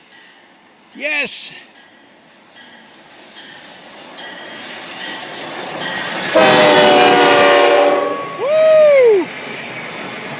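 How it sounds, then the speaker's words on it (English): The Amtrak passenger train to Vancouver arrives at night, sounding short horn blasts and a longer one as its rumble and wheel squeal build up close. Excited voices cheer over it. "And here it comes, the Amtrak to Vancouver."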